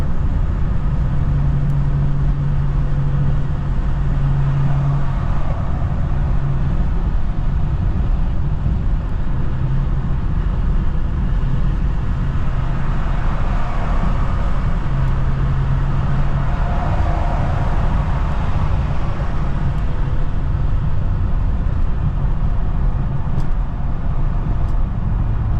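A car rolling through road traffic, a loud steady wash of tyre and engine noise with a low rumble that holds constant throughout, no voices present.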